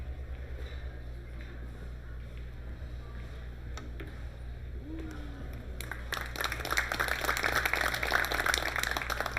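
Applause from the crowd at the 2023 World 10-Ball Championship pool match between Fedor Gorst and Denis Grabe, rising after a quiet hall murmur into steady clapping over the last few seconds.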